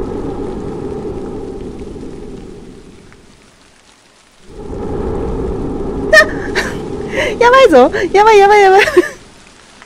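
Steady heavy rain pours in a Japanese horror video game, a continuous wash that drops out briefly and then returns, with a man exclaiming excitedly over it toward the end.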